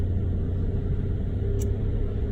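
A car cruising on the road toward home with a pet cockatiel aboard, heard from inside as a steady low engine and road rumble with a faint short tick partway through and no talking.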